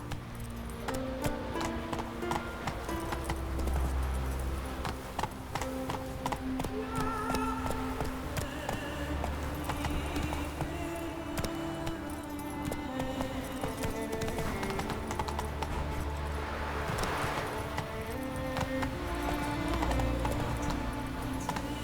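In The Witcher 3, the horse Roach gallops with a brisk, steady clip-clop of hooves and occasional jingling tack, loud and close, joined by a brief whinny and distant music in the background.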